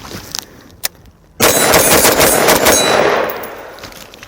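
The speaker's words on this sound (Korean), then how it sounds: "자, 이거 한번 쏴 보겠습니다." A single loud gunshot from a short-barreled rifle fitted with a muzzle brake cracks out after a quiet stretch, then rings and slowly decays over about two seconds.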